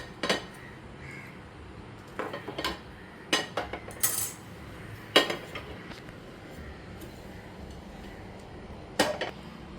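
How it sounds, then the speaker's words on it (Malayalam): A knife cuts a cooled poha and banana snack on a plate, giving scattered clinks and taps of metal on the plate, spaced irregularly and fairly faint against a quiet background. "നമുക്കിത് കട്ട് ചെയ്തെടുക്കാം കേട്ടോ"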